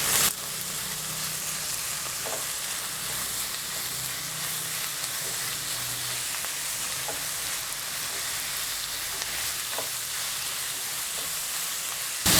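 Kerala-style beef fry with crushed ginger, garlic and green chilli sizzles steadily and densely in a pan, with a few faint stirring clinks scattered through and no one speaking.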